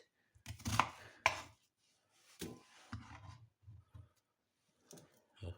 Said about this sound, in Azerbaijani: Soğanı da doğradıqdan sonra indi keçirik.